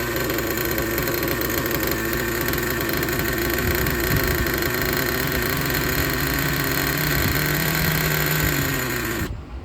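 A used Traxxas Jato 3.3 nitro RC car engine with a cracked connecting rod runs loud and steady for nearly ten seconds, a continuous buzzing drone with uneven revs that cuts off abruptly at the end.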